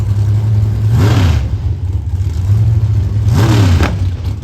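A 470 Outlaw drag racing car idles with a steady low engine drone at a dragway, two sharp revving surges rising over it, with a backfire among them; no one speaks.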